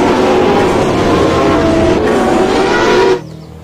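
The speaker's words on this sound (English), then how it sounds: "Wow, this is a race car" Race car engine noise, a loud steady roar held for about three seconds before cutting off abruptly, with only faint residual hum afterward.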